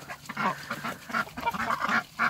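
Pomeranian geese and ducks calling together nearby, a steady run of honks and quacks in short overlapping bursts, no voices.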